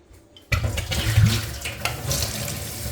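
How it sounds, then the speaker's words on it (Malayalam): Water runs steadily from a tap, splashing and sloshing into a container after a brief quiet start, with no voices. "ഇനി നമുക്കിത് ഒഴിച്ച് കളഞ്ഞിട്ട് നല്ല വെള്ളത്തിൽ നമുക്ക് കഴുകിയെടുക്കാം"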